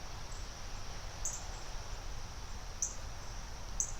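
Baby cardinals chirp in three faint, brief, high-pitched peeps spaced apart, heard from a distance over a steady outdoor hiss.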